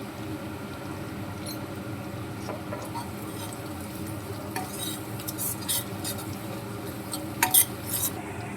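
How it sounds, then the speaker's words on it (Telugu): Ginger garlic paste fries for chicken curry while it is stirred in a pan. A steady low sizzle continues underneath, and sharper scrapes and clinks of the utensil against the pan come louder toward the end, with no talk. "అల్లం వెల్లుల్లి పేస్ట్ పచ్చివాసన పోయేంత వరకు కలుపుకుందాం."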